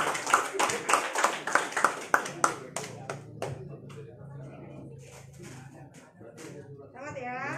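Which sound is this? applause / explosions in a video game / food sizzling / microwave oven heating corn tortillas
applause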